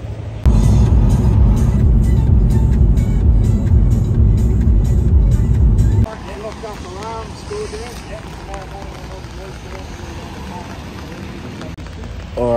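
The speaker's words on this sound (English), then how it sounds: "so the car's getting towed now" A broken-down car being towed near Albury at evening, heard as a loud steady engine rumble for about six seconds before it drops to a quieter road hum with people talking over it.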